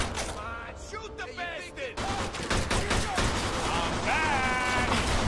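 In Mafia 2, a shootout rattles with fast rapid gunfire under continuous loud game music and effects, with bursts of shots layered densely through the whole stretch.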